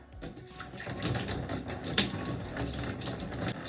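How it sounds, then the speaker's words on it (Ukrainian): Clean water splashes and pours in an uneven stream nearby to rinse hair, gurgling and spattering with small clicks and drips mixed in. "Чистою водою трішки зілью"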